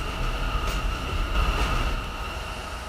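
A Castle Street bound subway shuttle train riding along, with a steady loud low rumble and rail noise throughout, brief brighter swells of wheel and track sound, no talking.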